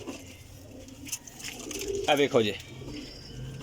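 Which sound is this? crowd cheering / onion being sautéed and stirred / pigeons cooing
pigeons cooing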